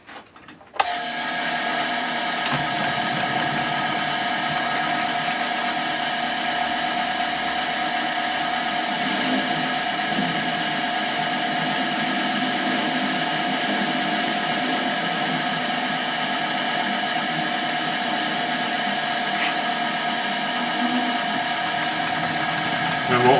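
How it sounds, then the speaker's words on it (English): A metal-cutting machine tool runs steadily with a strong tonal whine while cutting a small chamfer inside a threaded bore, continuous and close for the whole stretch after a brief start. "We'll just cut a little chamfer just inside that threaded portion."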